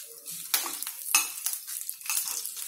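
A spoon stirs a spicy raw mango rice mixture with green chili in a pan, giving close, scraping, clinking strokes in uneven bursts.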